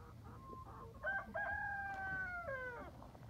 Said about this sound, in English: are chickens. Chickens who want to play.